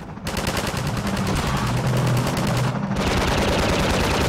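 A helicopter gunship in Half-Life 2 fires steadily and loudly in a dense, unbroken stream of rapid gunfire, close and continuous, with no talk over it.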